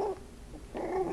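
A four-week-old miniature pinscher puppy gives a couple of short, faint whimpering yips with a brief gap between them.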